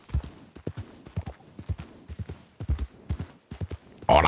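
Horse hooves clip-clop steadily as a horse-drawn cart approaches, a close, uneven run of hoof strikes without talk, ending in a brief louder noise.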